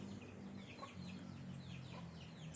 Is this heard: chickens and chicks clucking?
yes